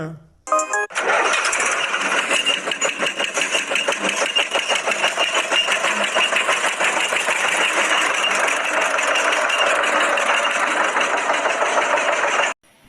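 A tractor engine cranks and starts, then runs with a steady, rapid chugging rhythm for several seconds before cutting off abruptly.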